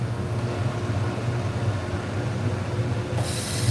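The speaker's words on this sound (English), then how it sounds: "You can hear that dust collection system in the background there." A dust collection system in a knife-sharpening workshop gives a steady, droning mechanical hum with a low rumble and airy hiss, running unbroken throughout.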